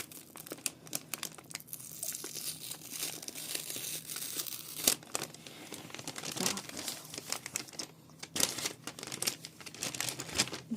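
Close, crisp crinkling of a plastic parcel package being unpacked, containing embroidery supplies, irregular rustles and crackles coming in bursts, with no speech.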